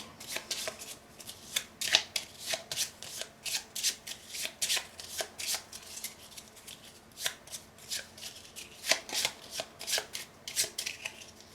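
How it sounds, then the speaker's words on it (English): Playing cards being shuffled repeatedly during a solo tabletop session of the racing board game Heat: Pedal to the Metal, crisp riffling bursts in a steady rhythm, close and moderately loud, no talk. "I have to shuffle this deck before I can draw more"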